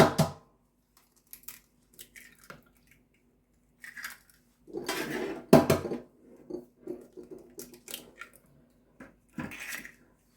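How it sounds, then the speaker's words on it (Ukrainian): Three eggs cracked into a dish for a diet omelette: a series of sharp taps and cracks followed by wet, squishy plops and drips, close and fairly quiet with pauses between. "Вбиваю три яйця."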